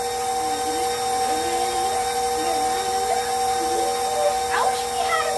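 An electric mixer whisks butter for chocolate chip cookie dough, a steady high whine with warbling pitch changes as the beaters work, running continuously close by.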